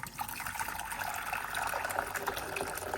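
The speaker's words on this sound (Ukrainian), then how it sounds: "наливаємо водичку" Tap water runs steadily into a pot of washed potatoes set to boil, a continuous close splashing fill with no talking.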